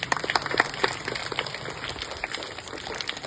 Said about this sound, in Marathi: या सगळ्यांसाठी एकदा जोरदार टाळ्या.